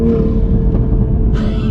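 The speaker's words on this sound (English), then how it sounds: "we'll get a second gear downshift." A modified 2021 Toyota Supra engine rumbles loud and close through a second-gear downshift, a deep steady drone that rises in a brief rev near the end.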